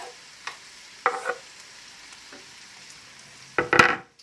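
Mushroom risotto ingredients get stirred in hot oil: a quiet sizzle under a few scattered scraping strokes of a utensil against the pan, ending in a louder burst of stirring and spluttering, with no speech.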